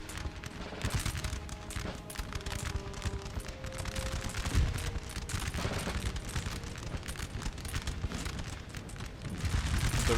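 Rapid musket volleys crackle continuously in a Napoleonic battle in Napoleon Total War, a dense, loud barrage of overlapping shots that never lets up.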